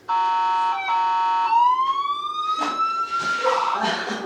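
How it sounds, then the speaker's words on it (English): A loud electronic siren wails nearby, its tone stepping and then sliding upward, with some rougher bursts of noise near the end. "as the sirens get closer."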